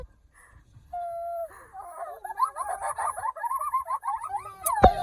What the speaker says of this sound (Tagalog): Look at the turkeys.